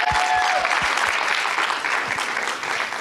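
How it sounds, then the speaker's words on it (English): Steady, dense audience applause for the young ladies of a curvy girl project event, with loud sustained clapping, a few scattered low thumps, and a brief whistle near the start. "So they deserve another round of applause because they worked hard."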